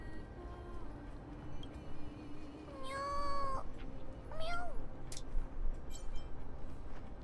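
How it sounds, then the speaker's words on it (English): A cat in Honkai: Star Rail gives two clear meows, the first longer and drawn out, the second shorter a second later, over a low background rumble of game ambience. "I did not expect to hear meow meow from Flame River."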